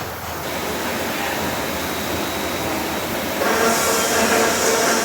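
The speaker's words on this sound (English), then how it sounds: "Here you can see the travel of the feeding system." A JE 485ATS servo automatic pipe cutting machine's high-speed feeding system travels along its axis, giving a steady loud mechanical whirr with a broad rushing hiss that swells louder in the final second and a half.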